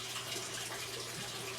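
Water flows steadily through a pipe in a spare-bedroom hydroponic setup, making a soft, continuous rushing trickle.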